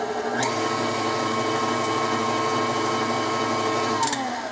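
Electric mixer beating brownie batter, a steady close motor whir with a faint pitch drop near the end, running alone without talk.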